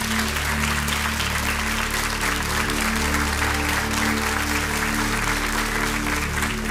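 A game-show studio audience applauds steadily throughout, a dense continuous clatter of many hands clapping at close range with no pauses.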